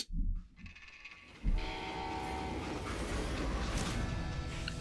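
A steam train in the Western shooter Call of Juarez: Gunslinger comes to a halt, a loud sustained rumble of rolling wheels and hissing mechanism with a high whistle-like tone cutting through, no talk over it.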